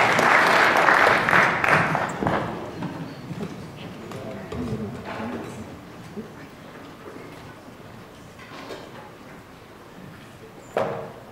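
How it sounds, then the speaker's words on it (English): Applause for an orchestra audience at a symphony concert in Godfrey, Illinois, a loud burst of clapping that fades over several seconds, with scattered claps and crowd noise trailing off. "Okay, here's some applause."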